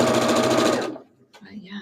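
A sewing machine stitches quilt rows together in a short, fast burst of rapid needle chatter that stops abruptly, followed by quiet and a faint bit of voice.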